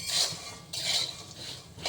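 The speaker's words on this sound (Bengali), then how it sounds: "বাদাম ভাজা করছি বাদাম ভাজা ঠিক হয় দেখো" Peanuts are dry-roasted in a pan at home, stirred with a utensil that scrapes and rattles against the metal in a few close strokes, with no talk.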